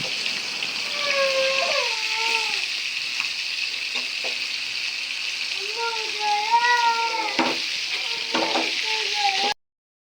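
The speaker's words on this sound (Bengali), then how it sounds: "আমি মাছগুলো ঘুরে দিতেছি যাতে সব মাছগুলো সুন্দরভাবে ভাজা হয়" Koi fish fry in a pan of oil with a steady, bright sizzling hiss, while voices talk over it before the sound cuts off abruptly.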